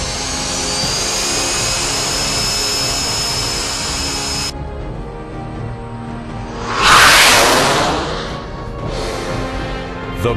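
A Navy T-2 jet trainer flies past, a loud high engine whine that cuts off abruptly, followed by a rushing roar that swells and fades as the aircraft passes.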